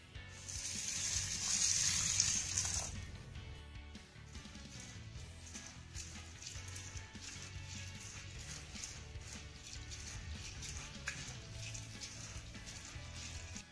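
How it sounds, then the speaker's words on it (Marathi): Water sloshing and splashing as grains are rubbed and rinsed in a bowl, louder at first, then a steady wet swishing and rattling throughout. "हा गहू स्वच्छ असा धुवून घ्यायचा आहे"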